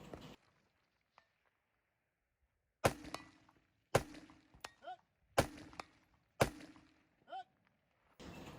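Rifle shots from a black rifle ring out at long-range targets, four sharp loud cracks spaced about a second apart, each followed by a short echo and a distant metallic ping from the hit steel, with another shot starting at the end.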